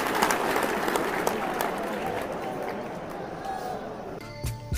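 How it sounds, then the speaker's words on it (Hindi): A dense, steady wash of clapping runs at an even moderate level throughout, with a short burst of other noise near the end, in a refrigerator shopping setting. "तो हो जाए तालियां।"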